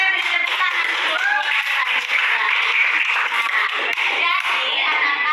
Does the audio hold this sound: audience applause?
yes